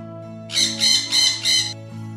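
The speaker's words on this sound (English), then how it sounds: "Spotty sat on Parrot's back" A cartoon parrot gives four quick, loud squawks in an even rhythm, close and clear over a steady musical background with no talking.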